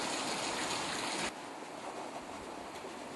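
Fresh water rushes into minnow bait holding tanks at a live bait facility, a loud steady gush that abruptly drops to a softer continuous flow partway through.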